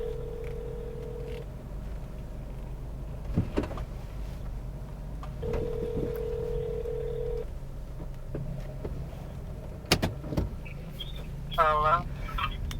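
A telephone rings in steady, evenly spaced tones, with soft background noise, a few clicks and a burst of higher electronic chirps near the end.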